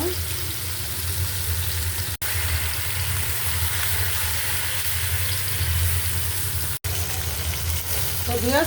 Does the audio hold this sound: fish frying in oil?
yes